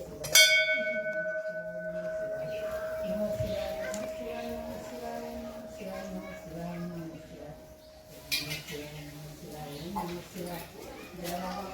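A bright puja bell rings once and sustains while people talk over it. A few faint jingles follow later.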